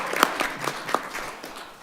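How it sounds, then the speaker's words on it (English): Applause at a Wheat Ridge city council meeting, a brief scattered round of clapping from a small room audience, moderately quiet and fading by the end. "Let's have a little round of applause for her."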